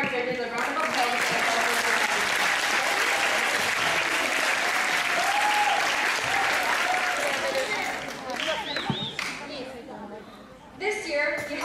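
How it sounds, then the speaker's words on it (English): A school hall audience at a middle school inter-house dance competition gives the judges a long, loud, dense round of applause that fades out near the end, then gives way to scattered sounds and a few voices. "Let us please give our judges a round of applause."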